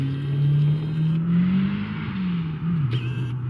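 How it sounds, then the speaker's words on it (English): A Honda Civic engine, just repaired after a fuel pump fault, runs up close with a loud steady drone whose pitch climbs and dips as it is revved, with no talk over it. "All right, so Eric finally got the Civic going."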